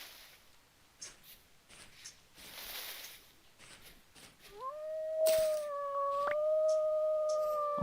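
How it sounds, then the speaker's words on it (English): A wolf in the survival game Vintage Story lets out a long, rising, sustained howl from a fair distance, following quieter ambient wilderness sounds. "I hear another wolf again."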